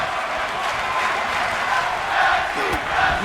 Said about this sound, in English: We have a tag team wrestling chant going on.